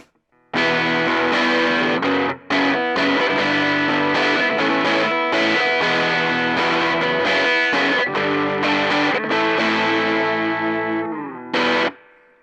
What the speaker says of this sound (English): this is a Turbo Rat on minimum distortion